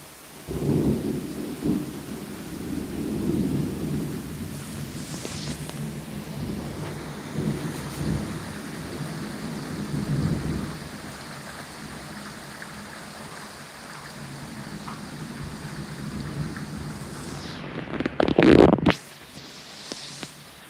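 Steady rain on a Sunday afternoon with low rolling thunder rumbling through it, building into a louder close crack near the end, with no voices.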